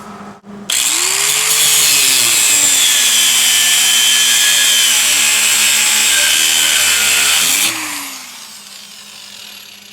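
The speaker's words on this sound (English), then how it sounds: "find your length of rebar and measure it out to wherever you want it to be" Length of rebar cut at an angle with a power tool: a loud, steady high-pitched grinding whine for about seven seconds, pitch dipping under load, then spinning down.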